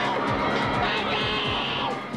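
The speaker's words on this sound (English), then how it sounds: "With the crowd cheering and holding hands with his mom and sister" Crowd cheering outside a courthouse at a 2005 criminal trial, a dense continuous roar of voices and shouts with a high sustained whoop in the middle, loud and spread out.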